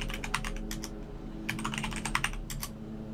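Keystrokes on a computer keyboard while a username and password are entered during Ubuntu setup on Windows 11, coming in two quick, close bursts of clicking with a short pause between.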